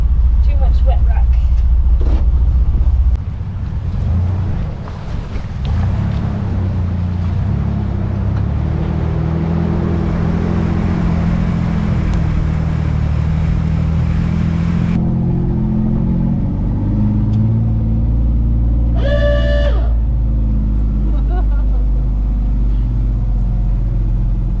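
Vintage Willys Jeep engine rumbling and revving steadily while driving back down over wet rock, loud and close throughout, with people talking over it.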